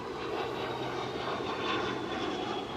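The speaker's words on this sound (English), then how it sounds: "airplane." An airplane passing overhead gives a steady, broad engine roar that swells slightly midway and holds at a moderate, constant level throughout, with no voices over it.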